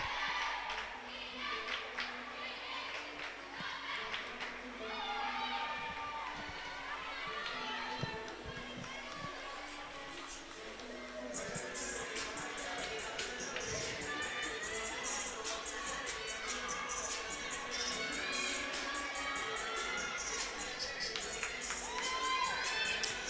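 A crowd of fans and parents at a college gymnastics meet, a steady indoor murmur of many voices with children's chatter, scattered cheers and footsteps, with a nearby voice talking over it.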